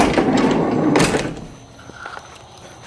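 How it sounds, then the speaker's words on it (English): Sliding door of a 1995 Eagle Summit Wagon LX rolling along its track and closing with a solid thunk, followed by a few faint clicks and light handling noises nearby. "Sliding door."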